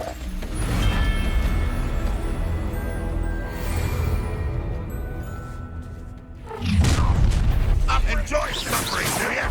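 A Bombarda explosion spell cast in the video game Hogwarts Legacy, booming blasts with a rumbling low tail, one early and a louder burst later, mixed with game music and a character's voice calling out.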